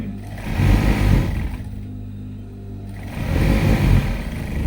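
A sewing machine stitches a blouse in two close, loud whirring runs separated by a brief pause.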